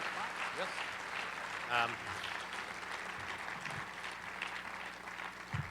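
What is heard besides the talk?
applause and cheering for Professor of the Year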